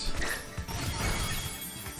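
An Extreme Speed attack lands in a Pokemon Scarlet & Violet battle, a dense crashing impact with a bright smash at the start and a sustained noisy rumble after, loud and without talk.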